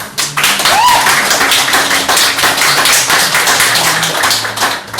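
Audience applause fills the room at a poetry event for a guest poet, loud, dense, close clapping from many hands sustained throughout, with a brief voice rising early on.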